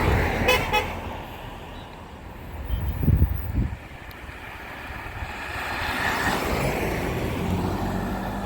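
Vehicles pass along a deteriorating stretch of road under repair between Johns Town and Lyssons in eastern St. Thomas, Jamaica, giving a low rumble that swells briefly around the middle and again toward the end, with a short horn toot near the start.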